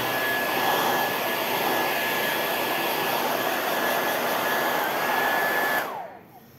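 A Gaabor GHD N700A hair dryer runs with a steady, loud airy whir close by, then switches off near the end and the noise quickly fades.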